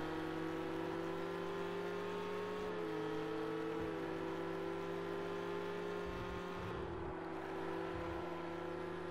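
A Ferrari 488 GTE race car in Project Cars 2 drones with a steady, loud engine note throughout, its pitch shifting slightly with a few brief dips and no voices.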